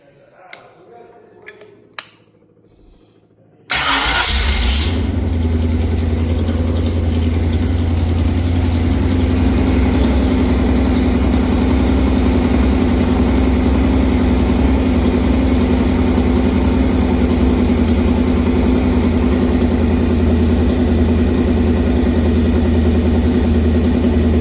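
A high-compression engine is fogged with AMS 2-stroke oil, breather removed. A few faint knocks come first, then the engine starts abruptly and holds a loud, steady idle without revving for the rest of the clip.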